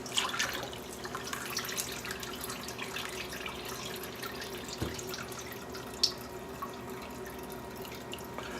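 Brewed coffee poured from a pot into a French fry oil filter, a steady close liquid trickle and splash running throughout with a small clink near the end, no talk.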